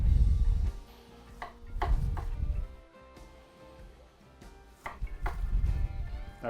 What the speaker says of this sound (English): Let's go ahead and slice one of these open.